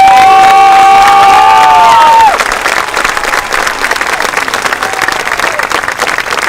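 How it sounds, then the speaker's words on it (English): Sustained applause and cheering from a large crowd at a high school commencement ceremony, steady and loud for several seconds, with a sustained tone sounding over the start before cutting off. "Please join me one more time in a round of applause for this outstanding accomplishment."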